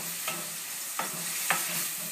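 Sauce with a quarter tablespoon of honey is stirred in a pan over a steady low sizzle, with three brief scraping strokes of the utensil standing out, no voices.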